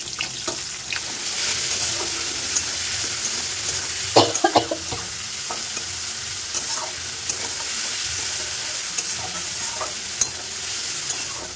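Fish curry simmers and sizzles in a pan on the stove, a steady close frying hiss with occasional scraping knocks of a spoon stirring, fairly loud and continuous, with no one speaking.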